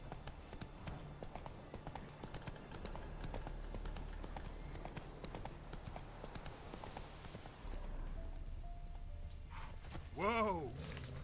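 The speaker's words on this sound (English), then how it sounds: "Run, Roach" Hooves clip-clop at a steady galloping rhythm as the horse Roach runs in the video game The Witcher 3, with a whinny near the end and people talking over it.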